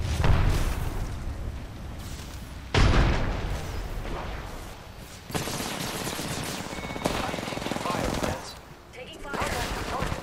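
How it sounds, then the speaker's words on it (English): Arc Star grenade and gunfire in an Apex Legends match: a run of sharp blasts and crackling shots bursting at intervals over dense, loud game noise, with in-game voice callouts mixed in. "Throwing Arc Star."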